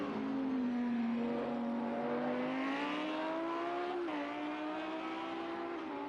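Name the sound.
race car driving through a turn on a track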